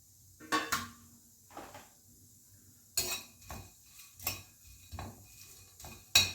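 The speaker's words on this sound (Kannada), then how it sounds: "ಬಾಣಲಿಗೆ ಇದೆಲ್ಲವನ್ನ ಒಟ್ಟಿಗೆ ಬಾಣಲಿಗೆ ಹಾಕ್ಕೊಂಡು ಸ್ವಲ್ಪ ಚೆನ್ನಾಗಿ ಹುರ್ಕೊತೀನಿ" Spices for pulao powder dry-roasting in a pan on the stove, heard as sparse, sharp metallic clinks and scrapes of a spatula against the pan, spaced irregularly with quiet gaps between them.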